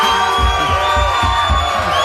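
A congregation gathered for Sabbath services cheers and whoops loudly and steadily, a sustained crowd roar with rhythmic low thumps running beneath it.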